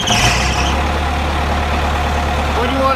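A Caterpillar D3 bulldozer's diesel engine runs with a loud, steady low rumble and a rhythmic idle throb, close by and continuous throughout.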